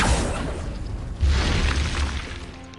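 A spell explodes in a Harry Potter video game, a loud booming burst that swells and then rolls away into a sustained crackling rumble.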